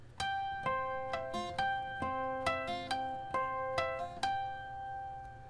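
Fingerstyle acoustic guitar picks out a theme in a fingerstyle arrangement, a steady run of about a dozen clear plucked notes and chords with ringing sustain, close and alone.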